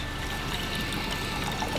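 Water pouring and spilling out of a container at a backcountry camp on a mule deer hunt, a steady close splashing trickle that runs on alone for about two seconds.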